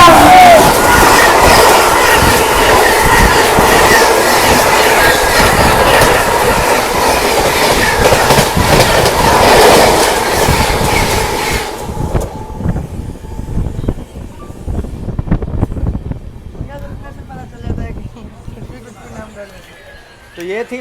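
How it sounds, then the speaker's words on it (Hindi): Lucknow Swarna Shatabdi Express roaring past at speed, a loud dense rush of wheels and clattering coaches for about twelve seconds, then dropping away to fainter rail clatter and squeals as the last cars clear. "तो ये थी लखनऊ स्वर्ण शताब्दी एक्सप्रेस, जो फ्लैट 130 में हमें स्किप की है"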